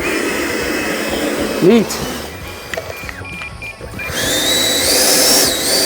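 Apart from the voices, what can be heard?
Freewing Chengdu J-10A RC jet motor throttled up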